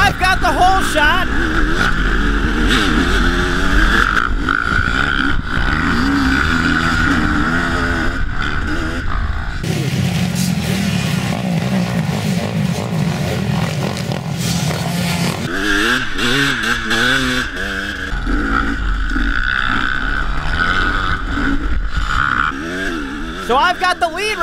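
Motocross dirt bikes race off the start in a winter scramble, engines loudly revving and wavering in pitch as the rider's own bike roars close by, with a speaking voice running over the engine noise.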